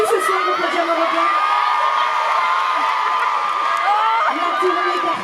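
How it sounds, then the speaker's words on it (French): A concert crowd at the Podium Européen in Grenoble cheering and shouting loudly and continuously, whoops rising above a dense roar of many voices. "on peut l'applaudir parce qu'il a fait une petite pause pour être avec nous ce soir au Podium Européen"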